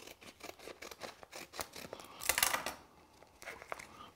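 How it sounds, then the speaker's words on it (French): Scissors snip through the top of a Knorr seasoning sachet in a kitchen, a series of short crisp cuts with a louder tearing burst midway, close and alone. "Je vais découper la partie supérieure"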